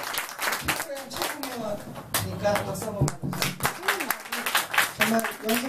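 An audience claps for a band member being introduced at a performance, sharp, irregular hand claps that come in bursts under a voice speaking over them, close and fairly loud.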